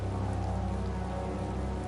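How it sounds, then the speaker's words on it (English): Steady rain falls without pause, a dense, even hiss of drops on a surface, close and continuous, with no voices over it. "It's rain."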